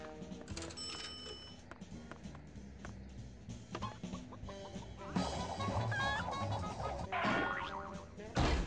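A chicken clucks in the Ed, Edd n Eddy: The Mis-Edventures video game, repeated clucks and squawks mixed with cartoonish game effects and jingles, busier and louder toward the end.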